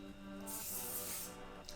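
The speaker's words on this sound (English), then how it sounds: "Like I will start spraying my face" A single burst of fine mist sprayed toward a face from a Sephora spray bottle, a soft airy hiss lasting about a second, close, followed by a brief faint second puff.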